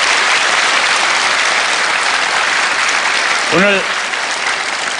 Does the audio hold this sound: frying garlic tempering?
no